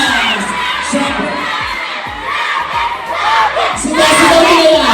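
A large crowd of fans, many of them children, shouts and cheers loudly and continuously at close range, with whoops rising and swelling toward the end.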